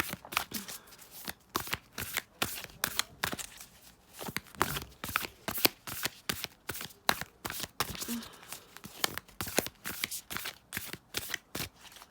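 A deck of oracle cards being shuffled steadily, riffling and tapping in rapid bursts with brief pauses, close and clear with no talking.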